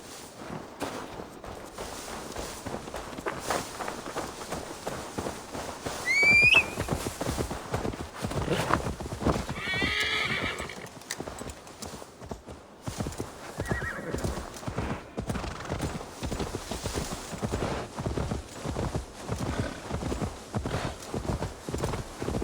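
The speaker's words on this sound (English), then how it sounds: "Now to deliver Magni his horse." Steady clip-clop of horse hooves walking throughout, with a horse neighing partway in, set against a busy Assassin's Creed Valhalla game soundscape.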